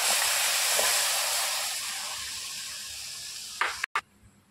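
Milk hits hot caramel in a pan with a loud, broad steaming hiss that slowly fades, followed by a few brief clatters near the end, no speech.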